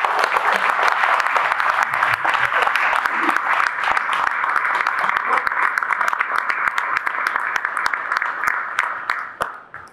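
A large crowd at a Congolese rumba concert applauds loudly and continuously, thick clapping with sharp individual claps standing out and a few voices mixed in, fading toward the end.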